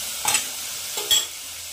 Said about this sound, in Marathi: ऑइल फुटते बघा